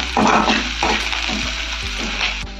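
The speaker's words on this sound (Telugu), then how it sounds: "ఉల్లిగడ్డ ముక్కల్ని కొద్దిగా మగ్గనిద్దాం ఫ్రెండ్స్" Chopped onion pieces for tomato peanut chutney fry in a pan with a close, loud sizzle, broken by a few soft stirring scrapes, and no voices.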